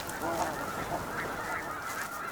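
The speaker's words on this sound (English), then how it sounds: "The snow goose colony is a land of mixed fortunes." Snow geese honk steadily throughout a tundra nesting colony, many overlapping calls forming a dense, continuous chorus of moderate loudness with no talking.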